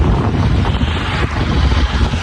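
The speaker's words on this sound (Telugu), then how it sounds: "బ్రిడ్జ్ మీద ఘోరంగా గాలి వస్తున్నది." Strong, steady wind on a bridge roaring and buffeting against the microphone, loud and continuous with no voices.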